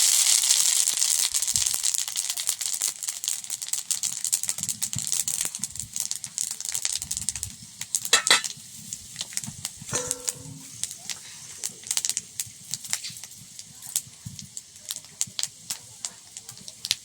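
Panch phoron, five-spice seeds, tempering in hot oil over a clay stove, a continuous crackling sizzle with scattered sharp pops, strongest at first and easing into intermittent crackles.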